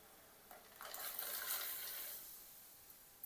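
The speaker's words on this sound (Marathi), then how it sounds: "त्याच्यामध्ये आता आपण बदाम टाकू।" Almonds dropped into a pan of hot water on a gas stove, a soft splashing and rattling swell that rises briefly and fades, followed by a couple of faint clinks.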